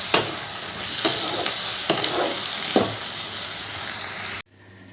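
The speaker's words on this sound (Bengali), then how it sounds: "এবার ঢাকাটা খুলে দিলাম এই একটু ভালো করে নাড়াচাড়া করে নিচ্ছে" Onion and tomato frying in a pan for a tangra fish dish, with a loud steady sizzle and several sharp spatula scrapes and stirs, cutting off abruptly near the end.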